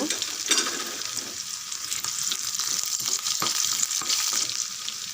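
Garlic and broken vadagam fry in hot oil with a bright, steady sizzle and crackle, close and continuous, punctuated by a few sharp spatters and stirring clicks.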